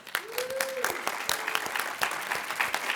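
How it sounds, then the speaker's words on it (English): An audience at a sports hall of fame induction ceremony applauds steadily, a dense continuous patter of clapping that runs throughout with voices audible underneath. "I just want to give them a round of applause"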